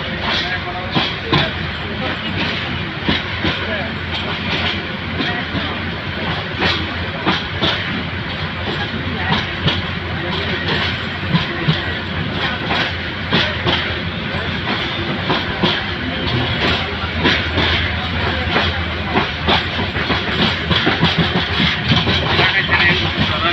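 The Kalni Express from Dhaka to Sylhet, just past the airport area, runs with a loud continuous rumble, rhythmic clickety-clack of wheels and hissing, while a voice talks over it.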